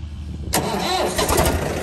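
A farm tractor, a model 855 engine, starts abruptly after about half a second of low background hum and then settles into a loud, close, rough running rumble.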